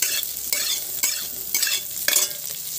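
Potatoes, cauliflower and capsicum fry in a pan with turmeric, a steady close sizzle broken by rhythmic scraping stirs about every half second.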